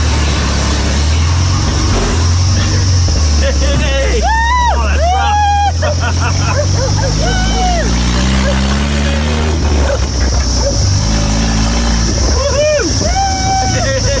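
A 1958 Land Rover 4x4 with only an engine pipe fitted runs loudly nearby, its engine drone rising and falling throughout while excited people talk and shout over it.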